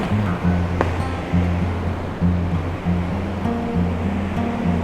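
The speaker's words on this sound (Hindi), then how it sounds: "पानी का बहाव इतना तेज है कि जैसे लग रहा है बादल फट गए हों" Fast mountain river water rushes loudly and continuously on the Manimahesh Kailash Yatra route, a dense broadband roar with no voices.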